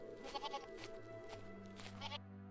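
Several goats bleat in a rural setting, with a few overlapping, fairly close calls in quick succession before a sudden cutoff.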